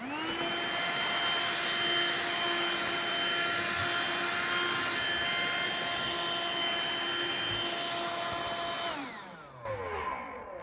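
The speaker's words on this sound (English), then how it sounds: "a little hand vac, and you vacuum up as you go, the side pieces" A small hand vacuum runs steadily and close, a constant high whine picking up quilt fabric scraps, then winds down near the end with a falling pitch.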